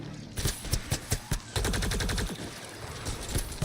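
Gunfire in the video game Mass Effect: Andromeda: a run of sharp, loud shots at uneven intervals, then a dense burst of rapid automatic fire that rattles on continuously under the battle din.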